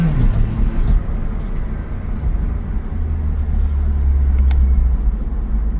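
An Acura RSX fitted with paddle shifters accelerates through the gears, heard from inside as a steady, loud low engine drone and road rumble that builds slightly over several seconds.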